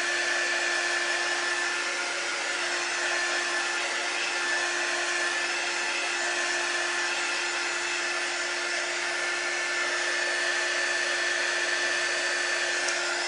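A handheld dryer blows on chalk paste over a stencil transfer for a herb jar cutout design, a loud, steady, unbroken whir that stays constant throughout with no talking.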